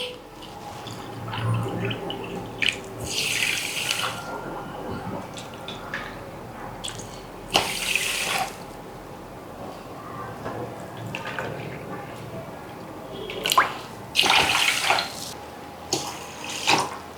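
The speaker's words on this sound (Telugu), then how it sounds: "నాలుగు కప్పులు వాటర్ వేసి" Water splashes into a pot for sugar syrup for gulab jamun, in a few brief pouring bursts with clinks and drips between them, heard close up without talk.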